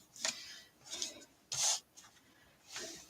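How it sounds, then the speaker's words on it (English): Paper trimmer blade cutting excess card stock from the edge of a handmade card: four or five short scraping strokes, close and fairly quiet, with no talk. "So I'm going to turn my card over so I can see that edge and trim off that excess"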